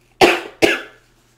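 Two sharp coughs, close and loud, about half a second apart, with quiet in between and after.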